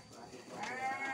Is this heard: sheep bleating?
yes